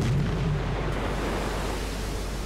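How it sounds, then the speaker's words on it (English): A torpedo hit in Silent Hunter 4 comes through as a deep, rumbling explosion boom that rolls into a sustained low roar mixed with heavy waves, loud and continuous without speech. "And it's another hit. I saw the explosion through the wave."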